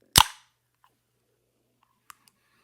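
A can of 2024 Mountain Dew VooDew is cracked open with a single sharp, close pop and brief hiss, followed by a few faint small clicks in near silence.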